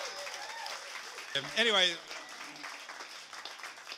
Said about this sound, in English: I think there's a note of sympathy in that applause